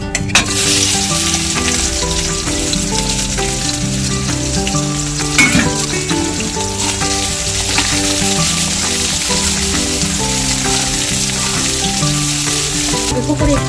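Chopped onions, five of them, sizzle loudly in a hot pan, a steady dense frying hiss running throughout with faint background music and no talk.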